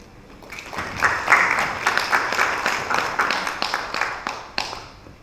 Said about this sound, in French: qu'on applaudit aussi